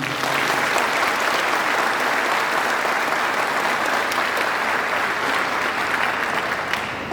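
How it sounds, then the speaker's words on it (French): Sustained applause from an audience at a tribute, dense and steady throughout with no pauses, filling the space evenly from start to finish. "À vous, 1000 merci et 1000 salves d'applaudissements."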